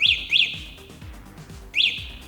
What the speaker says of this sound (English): You're going to press the unlock button twice and the Thunderbolt button twice. You're going to hear 3 chirps.